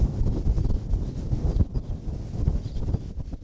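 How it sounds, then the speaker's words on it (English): Strong wind buffets the microphone at a riverside camp on the edge of the Kunene River, a steady low roaring rush with gusts rising and falling throughout, no voices. "It's very windy, but that does at least bring some relief from the immense heat."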